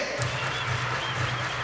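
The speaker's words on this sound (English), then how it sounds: "Everybody clap your hands." A crowd claps steadily in a large arena during a college basketball game, the applause fairly faint and continuous with a low murmur of voices underneath.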